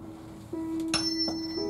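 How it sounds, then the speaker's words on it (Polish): A tuning fork tuned to E at 320 Hz rings with a pure, steady low-pitched tone after a light strike, sustaining evenly, with a couple of faint taps over it. "Następnie kamerton, dźwięk E 320 Hz."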